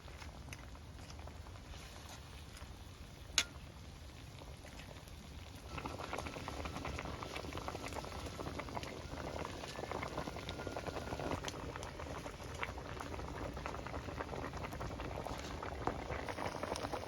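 A pot of fish curry with green banana bubbles at a steady rolling boil, a soft continuous patter that grows louder and denser midway, with one brief click near the start.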